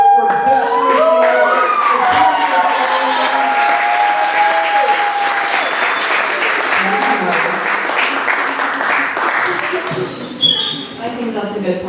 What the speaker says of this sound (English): could you give a big round of applause for this